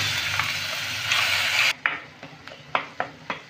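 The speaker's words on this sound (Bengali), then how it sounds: "মশলাটাকে আমি একটু নেড়ে নিলাম।" Ground spice paste with asafoetida frying over a low gas flame: a loud sizzle at first, then it quiets to a run of sharp spatula taps and scrapes against the pan.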